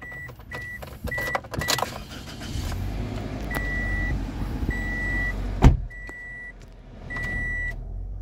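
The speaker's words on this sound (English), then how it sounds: "So once you start the vehicle," A 2008 Toyota Corolla with about 274,000 km starts up: a sharp transient, then a steady engine idle rumbling underneath, with repeated chime-like beeps from the car sounding at intervals throughout.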